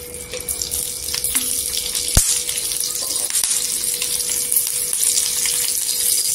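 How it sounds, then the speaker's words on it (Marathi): A spoonful of oil poured into a pan for a green chilli fry, with a soft, continuous sizzling hiss and a few faint clicks, steady and close. "इथे काय करायचं, तेल ओतायचा 1 चमचा।"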